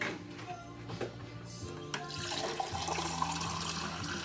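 Water is poured into a cooking pot while curry is being prepared, starting with soft splashes and trickles before turning into a steadier, fuller pouring rush that continues to the end, close and clear with no speech.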